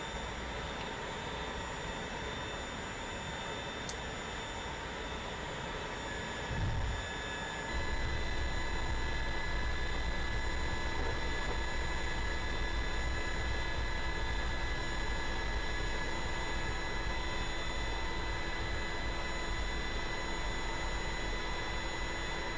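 L-39 jet landing on a short runway in a flight simulator: a low continuous engine hum with a thud near the middle, after which a louder steady rumble of rollout carries on to the end, with no talk.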